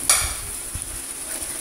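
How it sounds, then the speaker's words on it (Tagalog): Sliced onions dropped into a hot pan, a short bright hiss at the start settling into a soft steady sizzle with a faint utensil tap, close and alone. "Ngayon, hinuhulog ko na dito yung ating konting sibuyas."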